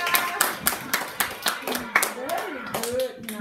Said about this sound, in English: Clap, clap to your friends, guys. Let's clap.